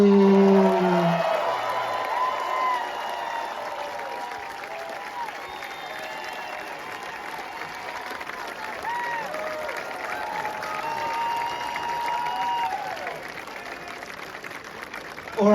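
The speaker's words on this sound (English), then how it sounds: "everybody give a huge round of applause" Sustained crowd applause fills a stadium at a US Open Cup trophy ceremony, steady and dense with light cheering, fading slightly toward the end after a brief voice at the start.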